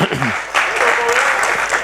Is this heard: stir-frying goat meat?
no